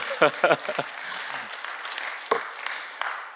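A congregation claps during a Korean church's early-morning New Year special prayer sermon. A short, soft patter of applause follows a brief stretch of a man's speech.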